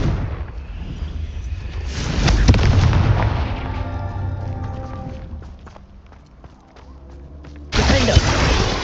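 Confringo spell blasts erupt in Hogwarts Legacy: a heavy explosion swells and slowly decays into crackling debris and footsteps, then a second loud blast strikes sharply near the end.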